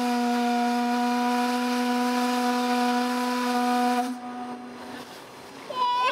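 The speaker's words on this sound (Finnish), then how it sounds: "Höyrypilli soi, no nyt soi." The steamship Ukko-Pekka sounds its steam whistle in one long, loud, steady harmonic blast lasting about four seconds, followed by a hissing release of steam and a brief shorter toot at the end.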